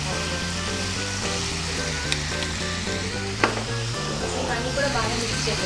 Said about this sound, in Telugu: బాగా మళ్ళీ బాగా వేయించుకోవాలి